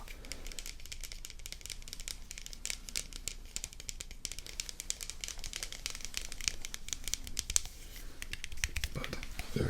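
Fingers tap rapidly and steadily on plastic JB Butters lotion containers, producing dense, crisp clicks and light crinkles close up, with a soft voice present underneath throughout.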